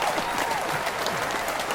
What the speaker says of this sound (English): Jarvis is even clapping up in there.